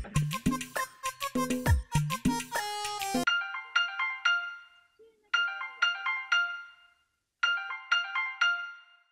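A phone ringtone sounds for an incoming call in a village setting, starting with a loud melodic tune and then repeating bursts of bright electronic chimes with short pauses between them.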